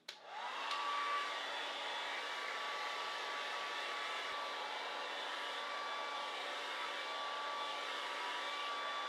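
A hair dryer blows steadily on a freshly washed and sanded wood cabinet from a Singer 301A sewing table, a close, continuous whine with a faint high tone that holds evenly throughout.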